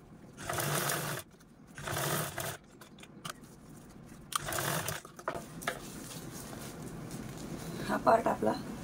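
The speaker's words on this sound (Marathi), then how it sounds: "तर चला आता आपण हा पार्ट अशा पद्धतीने लगेचच स्टिच करून घेऊया" Sewing machine stitching fabric in a home tailoring setting. It runs in several short bursts of whirring with pauses between them, close and moderately loud, and someone speaks softly in between.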